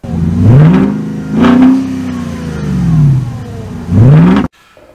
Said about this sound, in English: The exhaust valves of the Touareg, which sound amazing.